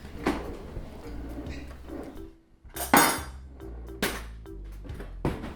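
Metal spoons and cutlery clinking and clattering against dishes as spoons are swapped in a home kitchen while cooking with leftover tortilla chips, several sharp close knocks scattered through, no talk.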